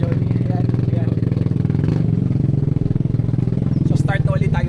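A motorcycle engine runs steadily during a ride on Malapascua Island in the Philippines, a loud, close, rapid thrum with a few bursts of faint voices over it.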